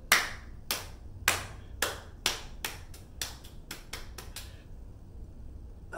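Close, bright hand claps from a clapping game follow one another in a series that speeds up toward a quick cluster, then stop abruptly into quiet.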